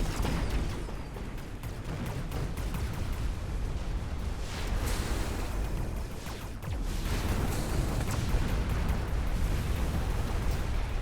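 Artillery fire and explosions from the strategy game Mechabellum form a dense, continuous roar of overlapping booms and bursts that stays loud throughout with no pauses.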